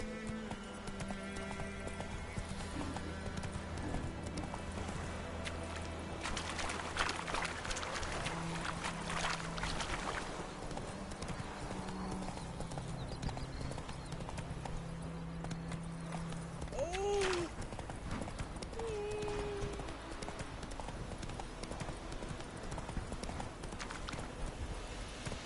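Roach the horse gallops in The Witcher 3, a steady stream of clip-clopping hooves running throughout under game music and ambience, with a short horse snort partway through.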